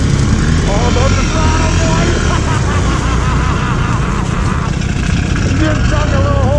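A Polaris HighLifter Sportsman ATV on 32-inch Assassinator tires churns through water, its engine droning loudly and steadily with rising and falling revs, while people talk and shout over it.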